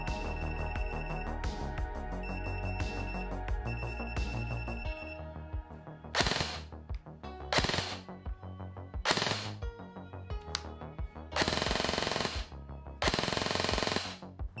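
Well WE01A airsoft gun firing five-shot bursts, four sharp rapid-fire bursts spaced a couple of seconds apart, loud and close, following a stretch of continuous background music.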